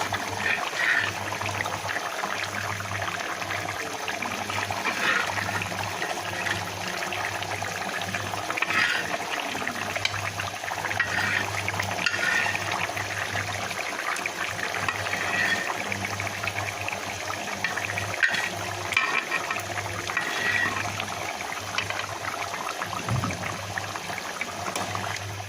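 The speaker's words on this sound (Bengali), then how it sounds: "পানি ফুটে উঠেছে, আমি এখন ভেজে রাখা মাছগুলো দিয়ে দেবো" Curry water with fried catla fish and bottle gourd bubbles and simmers in a pot, a continuous soft boiling hiss with small irregular pops and no talk.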